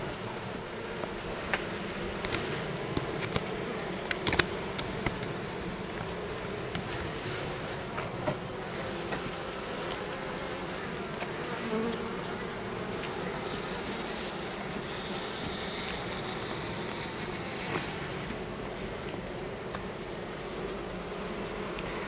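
A dense, steady hum of honeybees buzzing all around an open hive, continuous and close, with occasional light knocks and no talking.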